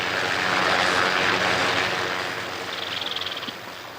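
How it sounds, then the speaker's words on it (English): A helicopter flies in or out of a remote emerald mine, with a steady whooshing engine drone that swells early and fades slightly, ending in a faint rapid rotor flutter. "To protect their lives and their emeralds, they have to fly in and out by helicopter."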